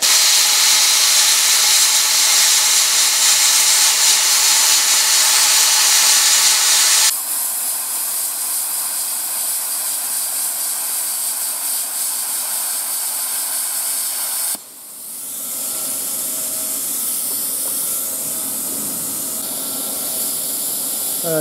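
A CutSkill 35 plasma cutter slices through metal at 27 amps, a loud, harsh hiss that drops in level partway through and then cuts out briefly before a quieter hiss resumes.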